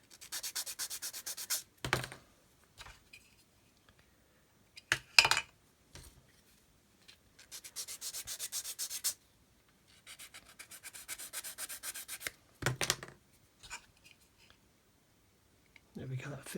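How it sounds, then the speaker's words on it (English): Close scratchy sanding of the sides of a plastic scale model tank part, done by hand in short bursts of rapid back-and-forth strokes separated by quiet pauses, with a person speaking in between. "So I'll just sand the sides to make it fit."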